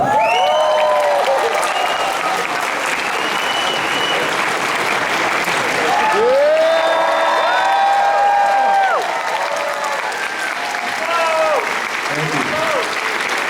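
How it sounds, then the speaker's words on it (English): An audience at a San Diego Comic-Con 2019 spotlight panel applauds loudly and steadily for over ten seconds, with sharp whistles and cheers rising through the clapping. "applause for Jim Lee"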